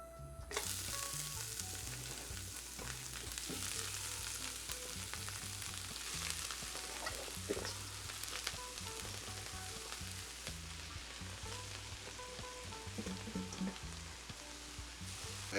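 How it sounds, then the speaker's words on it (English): Callaloo greens crackle and sizzle steadily in hot oil in a pot, a dense, continuous frying hiss heard up close with no one talking. "Now that the oil is heat up, I'm gonna add the callaloo"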